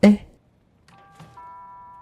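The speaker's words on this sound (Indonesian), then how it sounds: "tiba-tiba bel berbunyi, batallah acara makan-makannya" A doorbell rings with a couple of clear electronic tones, followed by a sustained chime, faint and alone after a brief loud thump.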